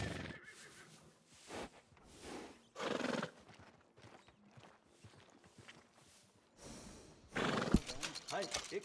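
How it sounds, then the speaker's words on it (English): A horse at a trader's stable in Red Dead Redemption 2 whinnies and neighs in short bursts while hooves clip-clop at a walk between them, all fairly quiet. "That's a nice horse."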